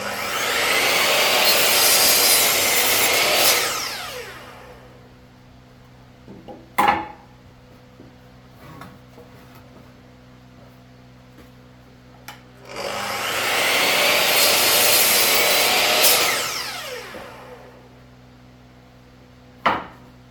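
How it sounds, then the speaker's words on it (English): Roof rafters being sawn into shorter lengths for a horizontal beehive build, with two long loud bursts of cutting noise separated by a quieter stretch of faint knocks and handling sounds. "The wood I'm cutting up is actually roof rafters"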